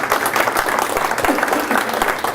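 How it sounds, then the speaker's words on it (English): A room of attendees at a preparedness network meeting on water filtration breaks into steady, dense applause, loud and continuous throughout with no pauses. "let's give a round of applause."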